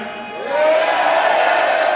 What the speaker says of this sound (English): only one Mike Tyson is what I'm hearing from the crowd